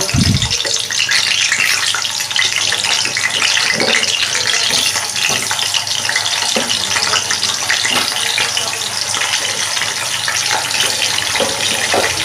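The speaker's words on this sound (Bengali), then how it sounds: "এখানে তেল বসিয়ে দিয়েছি, এবার আমি আলুগুলোকে ভেজে নেব" Potatoes sizzling in hot oil in a pan while frying for a dhaba-style shahi dum aloo, a loud continuous hiss with a sharp crackle as they first drop in, steady throughout with no talk.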